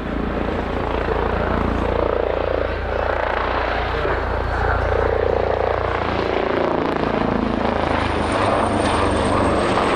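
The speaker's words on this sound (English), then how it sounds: "The helicopter is now approaching the survivor" A rescue helicopter hovers close by during a search-and-rescue demonstration at RIAT 2023, its rotor and engine making a loud, steady, continuous roar with a low pulsing beat throughout.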